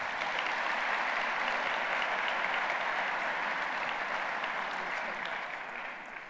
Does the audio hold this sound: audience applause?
yes